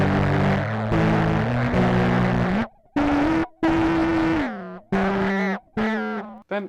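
Electric guitar dry signal blended with harsh cross-modulated oscillator noise, imitating a noise pedal, playing choppy bursts of buzzing, distorted tones that cut in and out with sliding pitches.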